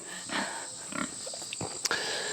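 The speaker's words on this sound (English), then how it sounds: "I guess we'll grab some feed for the pigs, get them fed." Pigs on a farm grunt and snort in short irregular bursts, faint and fairly near over a quiet background with a steady high hum.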